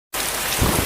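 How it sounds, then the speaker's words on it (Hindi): Heavy rain begins abruptly after a brief silence, a dense, loud, steady hiss of downpour on surfaces that continues without a break. "एक दिन अचानक आसमान काले बादलों से घिर गए और मूसलाधार बारिश करने लगे।"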